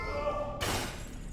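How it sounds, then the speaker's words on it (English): A sudden loud shattering crash in the video game Yuppie Psycho breaks over a humming tonal background, then a bright glassy spray of debris decays for under a second before cutting off. "Smashing sound."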